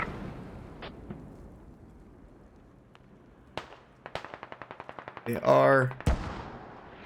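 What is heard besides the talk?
mortar shells exploding on enemy HAB in video game Squad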